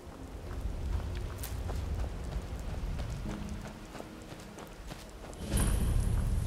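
A horse's hooves clop along at a walking pace in Skyrim, soft and irregular under a steady wash of rain, with a louder surge of noise near the end.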